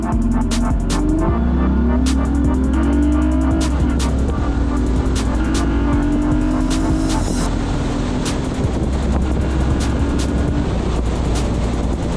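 Car accelerating hard during an air filter test run, engine revving up through rising gear pulls with loud wind buffeting the microphone throughout.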